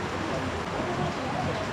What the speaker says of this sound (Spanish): Y se vino la lluvia.